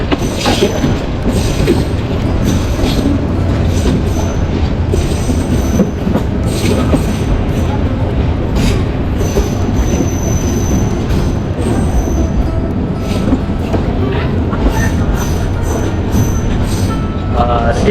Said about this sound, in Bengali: এখানে হয়তো ট্রেনটা কিছুক্ষণ থাকবে যাত্রী তোলার জন্য তারপরে আবার রওনা দেবে